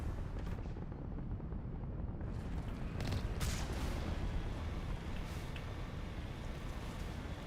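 Enemies firing on the player in Mass Effect, heard as a dense, continuous rumble of gunfire and heavy booms that fills the whole stretch without pause.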